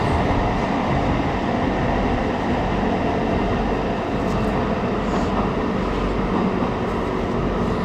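Tyne and Wear Metro train at Gateshead station rumbles steadily close by, a continuous loud roar of wheels and motors with faint rail clatter, no voices over it.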